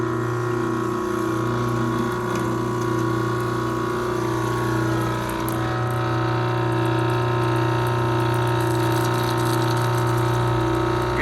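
A Mytee Escape chemical meter pump hums in a steady, even drone while priming and pushing air bubbles out, with a faint liquid gush underneath.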